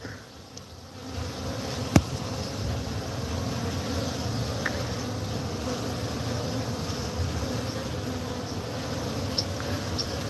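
Honey bees fly around their hives in a dense, steady buzz that holds close and even throughout, with a single sharp click early on and no voices.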